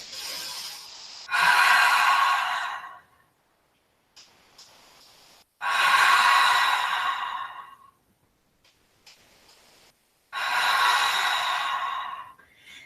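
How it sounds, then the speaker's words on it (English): Deep, slow breaths during a held standing yoga mudra pose come in three long audible exhalations, each a breathy whoosh a couple of seconds long, separated by quiet pauses and soft inhales. "Breathing here."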